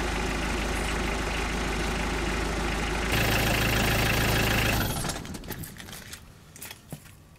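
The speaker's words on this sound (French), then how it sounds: "Passez le point mort et démarrez le moteur. Faites tourner le moteur jusqu'à ce que tout le pot d'échappement soit chaud." A car engine idles steadily in neutral to heat a newly fitted exhaust muffler, a constant low hum that rises briefly in pitch, then cuts off, leaving a few faint clicks and knocks.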